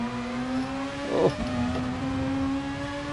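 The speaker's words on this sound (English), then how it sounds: "Sounds lovely, that Mazda." A faint Mazda race car engine in a Gran Turismo Sport racing game hums with a steady pitch, a brief rougher burst in the middle, quiet and somewhat distant.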